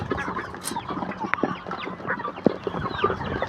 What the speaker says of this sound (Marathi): हे टर्की आहेत बघू शकता टर्की